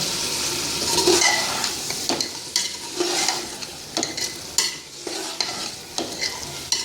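Meat and tomatoes sizzle softly in a pot while a spoon stirs and scrapes in irregular strokes, each scrape standing out against the low, steady frying hiss.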